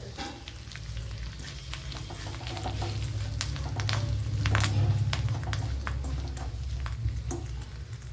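Pumpkin and green mango curry sizzles and fries in a pan after a spoonful of chili powder is added, a steady crackling hiss with occasional pops and stirring scrapes, close and continuous.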